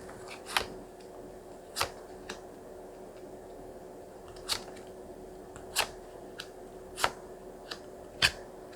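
Tarot cards being handled and drawn for a love reading, giving a series of sharp, separate card snaps and flicks spaced a second or so apart over a faint steady hum, with no talking.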